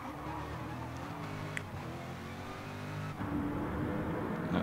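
Race cars from a GT racing game braking hard into Monza's first chicane, engine notes dropping and shifting down before a louder, steady drone rises near the end; continuous engine noise with no speech.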